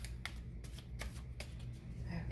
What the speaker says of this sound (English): while I shuffle some more love cards.